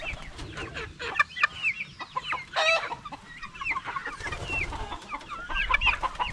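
Guinea fowl on a farm call in a busy flock, many overlapping squawks and clucking cries rising and falling over a low rural background, with no talking.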